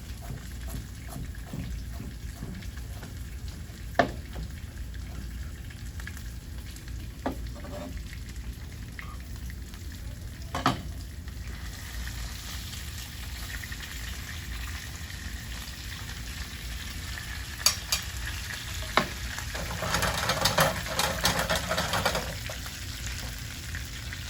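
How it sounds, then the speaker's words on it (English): Garlic sautés in olive oil in a sauté pan, a low continuous sizzle with occasional utensil clicks, swelling into louder spattering frying near the end. "we're going to get the garlic sauteed a little bit"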